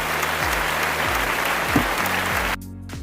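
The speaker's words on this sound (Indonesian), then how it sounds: "Kita beri tepuk tangan untuk Anggi dan Melisa ya" Students in a microteaching classroom session applaud their classmates, a dense steady clapping that fills the room and then cuts off abruptly near the end.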